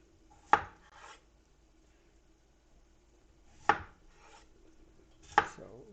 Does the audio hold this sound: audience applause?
no